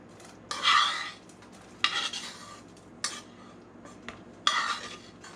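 A spoon stirs a pot of broccoli cheddar soup that has been brought back to a boil. Four distinct scraping sweeps sound close and fairly loud, separated by short pauses over a low background hum.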